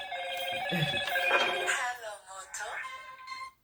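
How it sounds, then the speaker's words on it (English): A phone ringtone melody plays in short bursts of tones, with people talking over and around it. "We need to change a ringtone"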